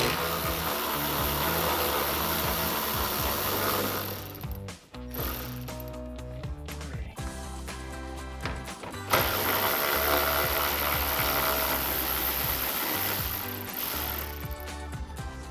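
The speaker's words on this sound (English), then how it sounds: "Using our 10mm socket," Ratchet driving a 10mm socket to remove upper grille screws on a 2009-2014 Ford F-150, rapid pawl clicking in steady bursts, close and fairly loud, with a brief pause midway.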